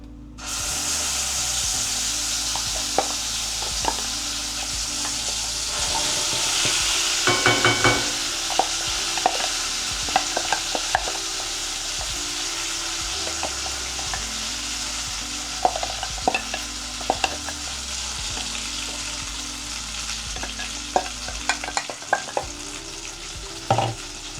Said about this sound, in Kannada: ಅದೇ ತುಪ್ಪಕ್ಕೆ ನಾವು ರುಬ್ಕೊಂಡಿರೋ ಹಲಸಿನ ಹಣ್ಣು ಹಾಕೋಣ.